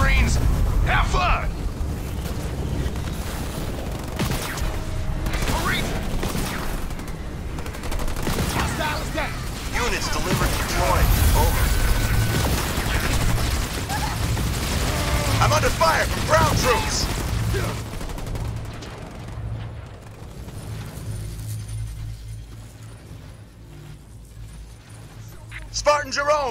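Gunfire and explosions from enemy vehicles in Halo Wars 2, dense bursts of shots and booming blasts through most of the stretch, mixed with game voices, then thinning to quieter rumble before a final hit.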